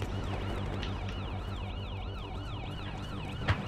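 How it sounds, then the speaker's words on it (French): Police sirens in Battlefield Hardline wail with a rising and falling tone, several overlapping at moderate distance over a low, steady game rumble. "J'entends les sirènes en tout cas"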